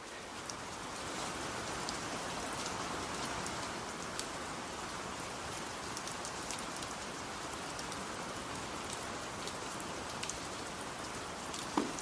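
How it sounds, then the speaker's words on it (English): Steady rain falls on surfaces in a dense, even hiss with scattered closer drops, continuous and moderately loud without speech. "God, it's raining."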